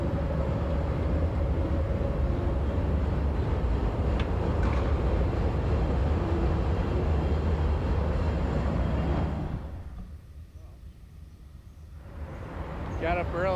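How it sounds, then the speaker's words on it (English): A train rumbles past loud and close, a steady heavy roar that drops away near the end, then starts to return. "The train comes right into my shot."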